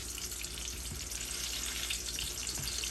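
Large chunks from half an onion fry in a pan for salsa macha, crackling and sizzling steadily and densely throughout with faint scraping stirs.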